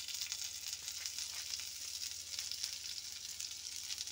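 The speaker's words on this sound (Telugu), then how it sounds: "బటర్ వేసుకొని కాల్చుకోవాలండి." Sweet corn vadas roasting in butter in a pan give off a steady, even sizzle throughout, close and continuous with no talking.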